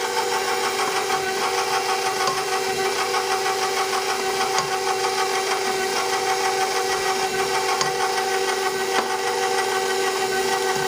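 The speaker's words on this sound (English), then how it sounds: "I'm going to turn my mixer back on to very low speed on stir" A stand mixer turns on its lowest stir speed while flour is added bit by bit to banana bread batter, giving a steady, fairly loud mechanical whir with light clicks throughout and no talking.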